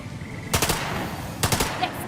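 Gunshots in the turn-based game Lamplighter's League: two separate short bursts of a few rapid shots each, about a second apart, loud and close against a quiet background.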